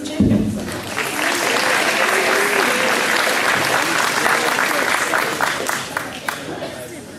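Sustained applause for a singer at a gala awards evening, loud and even, a thick crowd of clapping that starts with a sharp burst and holds steady before slowly thinning near the end.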